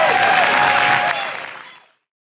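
Audience applause at a fundraiser for a political candidate, a dense burst of clapping that stays loud for about a second, then thins and fades out within two seconds.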